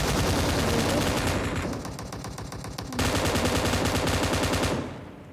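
An M249 machine gun fires in PUBG Mobile: loud, continuous rapid automatic bursts of gunfire running almost the whole time, with a brief dip in intensity midway before resuming full force, then cutting off near the end.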